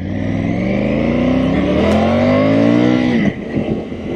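Triumph Tiger 850 Sport with an 888 cc inline three-cylinder engine revving close by, climbing steadily in pitch and then dropping off sharply as the throttle closes.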